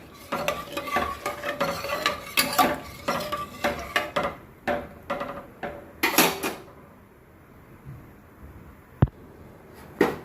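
Coconut milk and salt are stirred into fenugreek porridge, a rhythmic series of loud spoon scrapes and knocks against the pot that slows and thins out, then ends with a single sharp clink.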